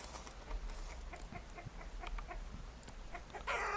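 Several chickens in Vintage Story cluck intermittently in short, scattered calls at moderate distance, ending in a louder, higher squawk.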